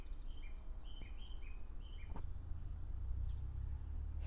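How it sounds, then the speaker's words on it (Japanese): Wild birds call near a train station, with short repeated high chirps in the first half and a few scattered faint notes over a low background rumble. "あちらの方から聞こえてくるね天然の鳥の鳴き声が"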